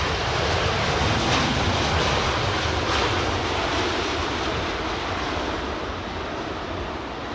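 A jet airliner landing at London Heathrow Airport, its broad, loud engine roar steady throughout the clip, then easing slightly toward the end.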